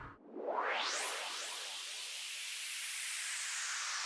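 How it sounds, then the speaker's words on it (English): Bandpass-filtered white noise transition effect from a modular synth patch: a quick rising whoosh that sweeps upward in under a second, then settles into a sustained hiss that slowly fades. "It's just filtered white noise being bandpass filtered."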